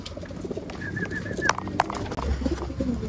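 Racing pigeons arrive at their loft after a 170 km training flight in Buenavista, Quezon, cooing softly over a low outdoor background with a couple of sharp clicks or wing flaps.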